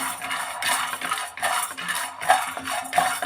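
Peanuts and chana dal roast in a small pan on the stove, stirred with a metal utensil that makes repeated close scraping and clinking sounds against the pan at an uneven rhythm, with no voices.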